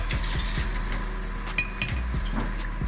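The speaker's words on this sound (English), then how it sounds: "We're gonna do a nice good coating on this sauce here on top of the buffalo wing." Fried buffalo wings get tossed and coated in sauce, giving a wet sizzling stir with low rhythmic thumps and two sharp metallic clinks of a utensil against the pan.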